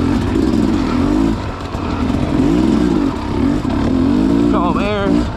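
A KTM 300 XC dirt bike on wet, muddy trails in the rain, its engine loud and close, revving up and down in repeated surges, with an excited voice shouting near the end.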